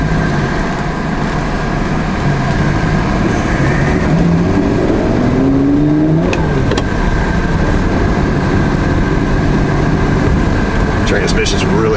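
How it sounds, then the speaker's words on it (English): A 1988.5 Ferrari Testarossa engine heard from the cabin while driving, a continuous loud drone with brief rises in pitch as it revs through the middle. "I personally don't like to have a radio in a Testarossa because I want to hear the engine."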